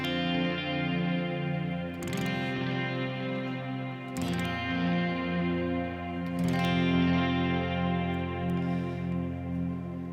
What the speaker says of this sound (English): I have a delay and a pretty long-tailed reverb that's going to sound like this throughout this whole part.